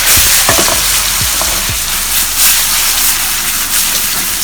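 Mung beans and dried fish fry in hot oil with a loud, continuous sizzle and hiss, while a few scraping stirs ring out near the start, close up with no talking.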